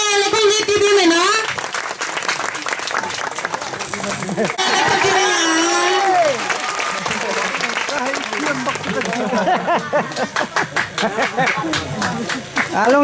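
An audience claps at a 2019 Christmas mission field gathering in the Ngaphe/Minhla area, with loud sustained applause mixed with voices and music over a PA.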